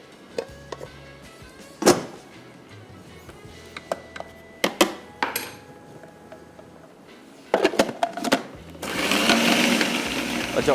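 An electric kitchen grinder grinds leftover greens, starting with scattered knocks and clatters before settling into a loud, steady whirring buzz near the end, with someone talking between the sounds.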